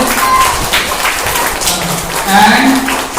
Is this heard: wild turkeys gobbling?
no